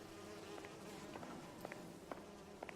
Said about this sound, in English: I like the flies buzzing.